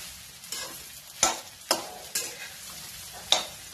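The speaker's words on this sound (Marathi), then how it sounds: "आता गॅस मोठा करायचा आणि चांगलं भाजायचं" Sabudana (sago pearls) dry-roasting in a pan on high flame, heard as a soft background hiss broken by a series of sharp, rhythmic spatula scrapes about every half second, close by and with no talking.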